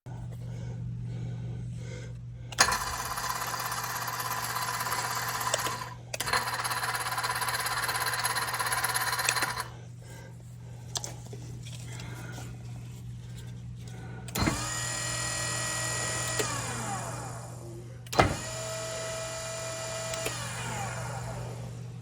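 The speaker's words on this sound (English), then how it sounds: "one of the motors now has an issue. It may be a bad gear or broken magnet. Either way, listen to what it sounds like." A faulty Class 2 electric motor with a bad gear or broken magnet, driving a remote-controlled frame, runs in several separate bursts of a few seconds each. It gives a loud, harsh grinding whine, and the later runs have a rising, wavering tone over a steady low hum.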